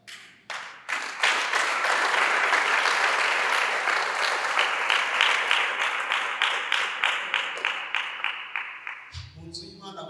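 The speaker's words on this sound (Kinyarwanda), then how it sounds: "Mani umugisha gukomera ijambo ry'Imana amashyi." A church congregation breaks into sustained applause that starts with a few claps, swells to a full, steady roar for several seconds, then thins into scattered claps before a voice begins speaking at the end.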